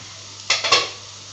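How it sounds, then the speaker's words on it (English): A cooking-pot lid is lifted off and set aside while pasta sauce is being made, a quick cluster of three close metallic clanks over a quiet background hum. "So first we will keep the lid aside"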